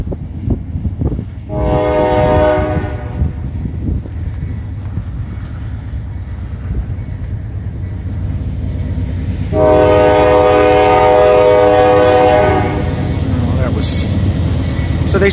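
A single-locomotive freight train, NS288, rumbles loudly nearby as its horn sounds two long blasts, one early and one later, with people talking briefly in between.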